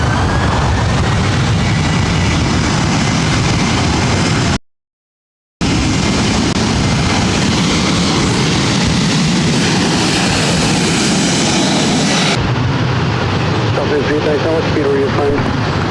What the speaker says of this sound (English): This is 914 taking off to Minneapolis on 737-900 ER.